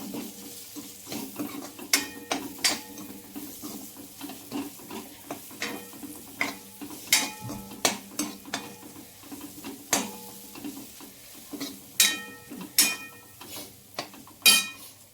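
Garam masala and a stored spice blend stirred in a frying pan, with irregular scraping clinks and soft sizzling close by and no talking.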